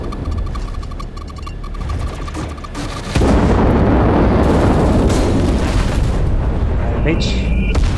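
Bombs explode in the space-combat game EverSpace 2: after a humming tone and lighter crackle, a heavy roaring blast erupts and sustains loud, dense rumbling for several seconds.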